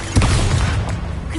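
An Expulso spell blasts in Hogwarts Legacy, a sudden loud explosive boom followed by a rumbling, crackling decay over about a second, with no talk.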